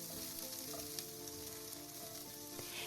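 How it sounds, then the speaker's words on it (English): Beef mixed with minced garlic and a splash of rice wine stir-frying in a wok, a steady close sizzle with faint scraping and stirring scrapes throughout, no talk. "Then add a touch of rice wine. And stir fry the beef until it's about"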